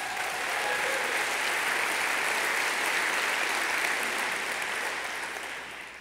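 An audience applauds at a city address, a broad, dense wash of clapping that holds steady and then begins to taper at the end.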